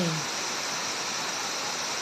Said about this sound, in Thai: สายน้ำเป็นลำธาร ไหลลงมา จากภูเขา ด้านบน